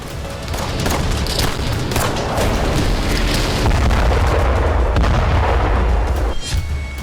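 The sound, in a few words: gunfire at Al-Shifa hospital, Gaza, during Israeli army raid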